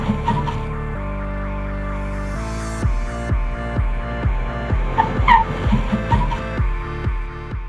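A car brakes hard in an emergency stop with the clutch pressed, tires skidding and squealing in a series of repeated, descending screeches that stay loud and close.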